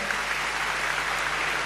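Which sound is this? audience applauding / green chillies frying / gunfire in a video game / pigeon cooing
audience applauding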